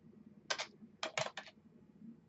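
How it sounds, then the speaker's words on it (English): Quick bursts of typing on a computer keyboard, a few close, crisp key clicks in two small clusters over faint background hum. "So I'm going to start typing first names."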